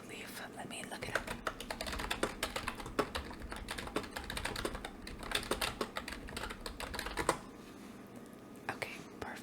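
Soft, rapid clicking of a computer keyboard typed steadily in a quiet library roleplay setting, close and intimate with faint whispering mixed in.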